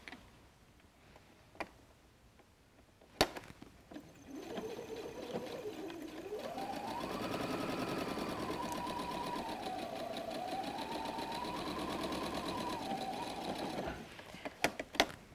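A sewing machine stitching the seam of a messenger bag in centre needle position, running steadily for about eight seconds with a rapid mechanical whir, framed by a few clicks before and after.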